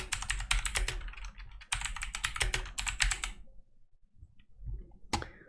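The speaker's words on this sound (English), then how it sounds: "type your username" Quick bursts of typing on a computer keyboard, close and crisp, with brisk key clicks for about three seconds, then a pause and one final key tap.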